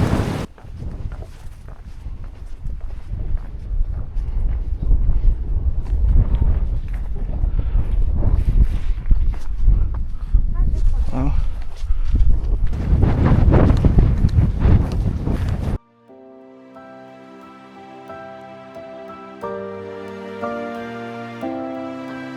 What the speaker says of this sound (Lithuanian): Tikrai šaltoka vėjukas pučia.